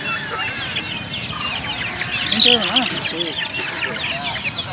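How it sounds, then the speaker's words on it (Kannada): Giriraja chickens cluck and chirp busily close by at a weekly market, with a few louder squawks amid a constant background of peeping and murmuring voices. "ನಾಟಿ ಕೋಳಿ ಅಂತೂ ಅಲ್ಲ ಗಿರಿರಾಜ ಕೋಳಿಗಳು"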